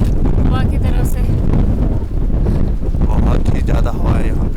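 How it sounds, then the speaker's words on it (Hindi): Strong, roaring wind buffets the microphone outdoors on a cold, stormy day at a camping spot, a loud continuous rush that never lets up, with a voice speaking faintly underneath. "इतनी तेज हवा है कि मैं तो गिर रही हूँ, लिटरली पुश हो रहा है हवा की तरफ से."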